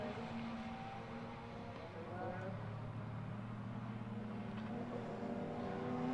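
Jaguar and BMW racing cars at Donington Park circuit during a classic touring car race, a steady distant engine drone rising slightly toward the end, heard alone without talk.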